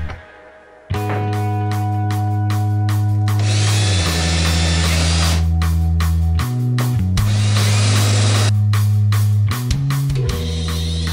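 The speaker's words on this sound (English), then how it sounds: "I used a countersink bit and then a Forstner bit on the other side, and then pre-drilled for the machine screws" A drill press boring into a driftwood saw handle with countersink and Forstner bits: a loud steady motor whine close by, with two long stretches of rougher, gritty cutting noise and brief pitch drops as the bit loads and releases.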